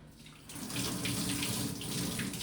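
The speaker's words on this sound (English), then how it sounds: "You put them in a basket and rinse them." Running tap water pours steadily over tomatillos held in a basket under the faucet, growing louder after a soft start, close and alone with no voices.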